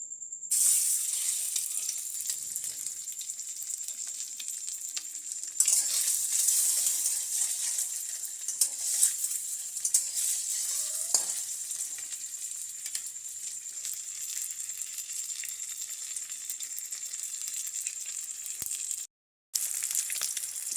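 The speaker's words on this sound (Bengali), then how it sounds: "এবারে দেশি ডিমগুলো ভাজবো" Country chicken eggs frying in a pan, a steady thin hiss of hot oil held throughout, close and even, with one brief dropout near the end and no talking.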